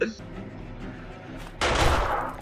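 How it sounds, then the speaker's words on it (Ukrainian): A burst of gunfire erupts near the end after a brief muffled exclamation, loud and sharp over a low background in the video game 7 Days to Die. "По мені стріляють!"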